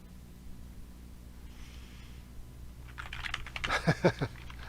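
Quick clicking keystrokes on a computer keyboard as text is typed into a PowerPoint slide, a short close flurry after a few seconds of quiet room hiss.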